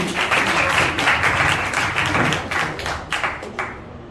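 An audience at an intern felicitation event gives a round of applause, a dense, loud clatter of many hands that holds steady and thins slightly toward the end.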